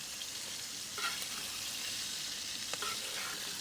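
Burgers sear in a skillet of garlic, onion and butter on a Big Green Egg, giving a steady, close sizzle with a couple of brief louder pops and stirring scrapes along the way.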